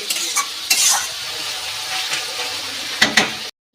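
Chicken pieces frying in oil in a pan for chow mein make a continuous close sizzle, with a few sharp spatula scrapes and bursts over it before it cuts off abruptly.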